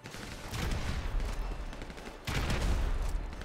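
Bursts of automatic gunfire from a GTA V deathmatch, two loud rattling volleys separated by a brief lull, close and dense with crackling impacts.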